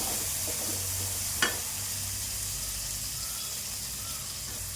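Tomatoes and curry leaves sizzle in a pan for sambar, a steady hiss of frying with a brief sharp clatter of stirring near the start, no talk.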